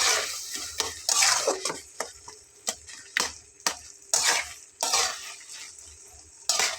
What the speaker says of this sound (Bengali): খুন্তিটা দিয়ে খুব সুন্দর করে এরকম করে একটু কাট লাগিয়ে দিলে এটা এরকম ঘন্ট হয়ে যাবে।